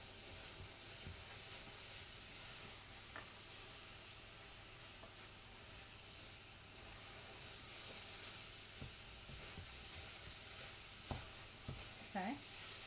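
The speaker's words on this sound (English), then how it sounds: "we'll give that a stir, actually" Food sizzles and hisses steadily in a pan with thyme as it is stirred, a continuous frying hiss with a few faint scrapes and clinks near the end.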